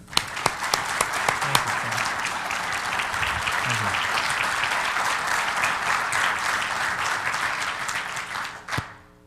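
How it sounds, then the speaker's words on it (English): An audience welcomes a speaker with applause: a few sharp early claps swell into steady, sustained clapping across the room, then fade near the end as a voice begins to speak. "I appreciate the applause and the introduction."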